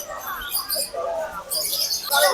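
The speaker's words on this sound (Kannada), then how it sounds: "ನೋಡಿ ಪಕ್ಷಿಗಳೆಲ್ಲ ಚಿಲಿ ಪಿಲಿ ಅಂತ ಇದಾವೆ." Parrots and other birds at Mysore zoo chirp and squawk in a lively, overlapping chorus, fairly close and bright, with bursts of busier calling toward the end.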